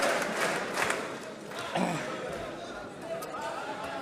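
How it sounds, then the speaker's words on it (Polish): Applause and crowd noise in the Polish parliament (Sejm) chamber, a burst of clapping mixed with murmuring and scattered shouts, with talking in the room. "Oklaski."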